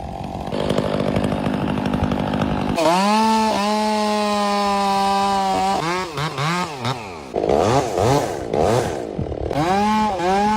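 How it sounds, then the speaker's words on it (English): A long-bladed chainsaw idles, then revs up loudly and close by in a damp forest, its pitch rising and falling repeatedly as it bites into tree bark and wood. "holding a chainsaw firmly, she starts the machine."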